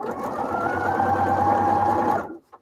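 A sewing machine runs steadily at close range, stitching through fabric for about two seconds in one continuous whirring burst with a faint mechanical hum, then stops abruptly, followed by a brief small click.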